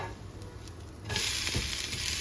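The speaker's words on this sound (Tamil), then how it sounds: "தோசையை வந்து இப்போ ஃப்ளிப் பண்ணி போட்டுக்கலாம்" A black chickpea dosa sizzles in sesame oil on a hot pan just after flipping, steady frying hiss that swells louder as the turned side hits the oil, with a soft scrape.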